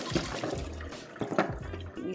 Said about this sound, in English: now I'm just going to drain it out before we take it to the garden